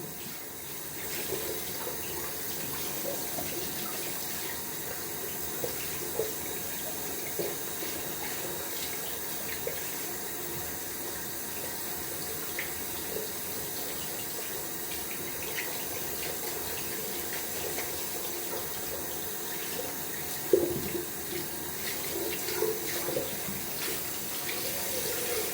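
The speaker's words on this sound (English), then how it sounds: "Gonna wash out the brush thoroughly." Shaving brush rinsed out under a running tap during a wet shave: a continuous, steady splash and hiss of flowing water with small irregular splatters and a brief louder splash near the end, no voices.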